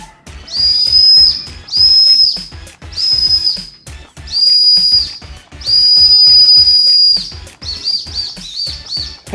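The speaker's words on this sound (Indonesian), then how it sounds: "peluit ultrasonik." Ultrasonic whistle blown in six shrill, high, piercing blasts, each about a second long, separated by short breathy pauses, loud and close with no talking.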